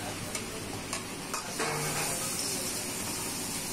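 Garlic and ginger hit hot oil in a street-style veg noodle pan, giving a steady close sizzle, with a few sharp utensil ticks against the pan early on and no voices.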